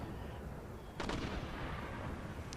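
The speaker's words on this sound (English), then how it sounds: "They're going to start firing." A single heavy cannon blast from an Empire: Total War battle booms out of a quiet background of distant ambience, followed by a rumbling tail and a faint later pop.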